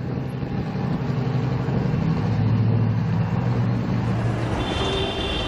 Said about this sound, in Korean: 아바나에선 1950년대에 사용하던 자동차들이 아직도 거리를 활보하는데요